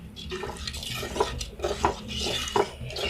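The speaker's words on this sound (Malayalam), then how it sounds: "ഒരു കപ്പ് ചൂടുവെള്ളം ഒഴിച്ച് കൊടുത്തിട്ട് മിക്സ് ചെയ്തെടുക്കുക" A spoon stirs hot water into prawn curry in a clay pot, making scraping, clinking knocks against the pot over a wet, sloshing bubble, with several sharper taps standing out.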